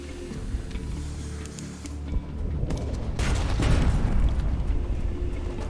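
Torpedo explosions in the video game Sunless Sea, heard as a deep rumbling boom that swells midway and rolls on loudly over a low droning game backdrop.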